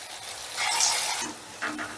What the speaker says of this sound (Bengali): এই তেলটার মধ্যে যতটুকু যে কটা বড়া ধরবে আমি সে কটা একসাথে ভেজে নিচ্ছি।